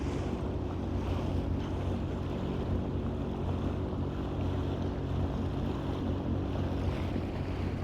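A Sea-Doo Fish Pro personal watercraft runs on open water, its engine a steady droning rumble mixed with rushing water and wind buffeting the microphone throughout.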